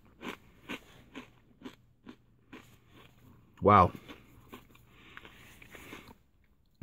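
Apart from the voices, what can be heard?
crunching on dried corn snacks from a military MRE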